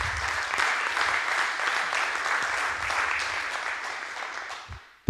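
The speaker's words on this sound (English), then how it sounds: "a big applause for him" An audience at a MENOG 25 conference session breaks into applause, dense steady clapping filling the room for about five seconds before fading out abruptly.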